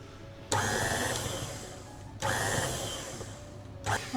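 A stand mixer with a paddle attachment beats cocoa cake batter for a Black Forest cake. Its motor whirs loudly and steadily in three separate bursts, each starting abruptly, with no talking.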